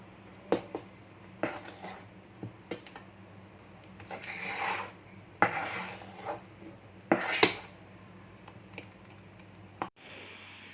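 Chocolate cake batter with a tablespoon of orange zest being mixed, giving intermittent scraping and tapping strokes with sharp clicks at irregular intervals over a quiet background.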